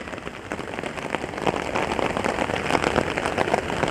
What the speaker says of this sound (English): And that rain just keeps coming,